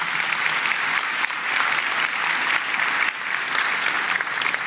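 A crowd at a county State of the County address applauds loudly and continuously, a thick, close roar of clapping that dips briefly and surges again.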